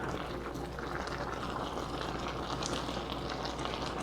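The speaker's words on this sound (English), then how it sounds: "I like to turn the temperature down on the noodles a little bit just so they're not boiling so hard" Pasta simmers in water in a shallow pan, giving a steady, soft bubbling and gentle seething hiss that carries on evenly throughout, with no voices.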